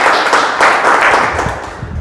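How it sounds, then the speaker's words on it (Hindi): Applause from an audience at a Renatus Wellness meeting, dense steady clapping throughout a short stretch, fairly loud and close. "एक बार हम चाहेंगे सब बोधाचार्य सर के लिए बहुत बहुत ताली होना चाहिए"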